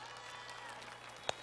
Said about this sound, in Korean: 여러분의 박수 함께 시작해보자.